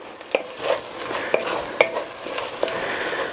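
Chorizo cooks in a pot on raised heat as a base for smoked chili, a soft sizzle underneath a handful of distinct metallic clinks and scrapes from a spoon stirring against the pot.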